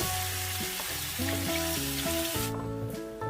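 Vegetables are tipped into onions frying in hot oil, giving a steady close sizzle and hiss that runs under louder background music.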